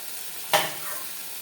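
Rice batter for chitoi pitha hits a hot pan with a sudden loud hiss that rises sharply and then settles into a steady, softer sizzle with no voices.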